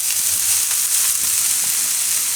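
Green onions cook in oil in a pan for a Gujarati soupy pasta, giving a steady, loud sizzle and hiss that continues evenly, close up, with no talking.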